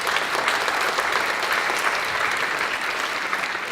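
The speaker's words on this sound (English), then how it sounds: "So that's, I think, worth a round of applause" Hearty audience applause at a college fall convocation, dense and loud, with many hands clapping in a continuous, even wash from start to finish.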